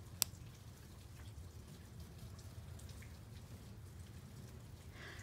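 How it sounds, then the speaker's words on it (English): Steady rain falling outside an open sliding door, a soft continuous patter with a few sharper drips, heard from indoors at low level with no talking. "I'll let you enjoy some of the sound of the rain."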